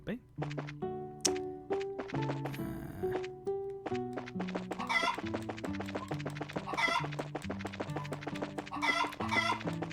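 Chickens in the video game Trails in the Sky clucking over a tinkling melodic game tune, short choppy clucks scattered throughout at moderate level.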